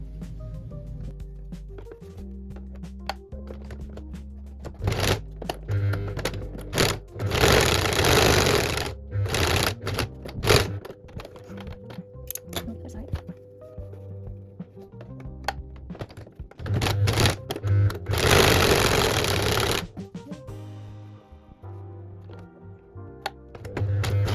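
Sewing machine stitching the drawstring part of a crossbody drawstring bag, in several loud bursts of rapid running stitches separated by quieter pauses and handling thumps, with no talk.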